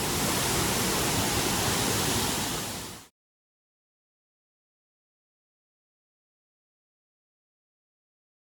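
White Waterfall at Cherrapunji, Meghalaya, pours as a loud, dense, steady roar of falling water for about three seconds, then cuts off abruptly into silence.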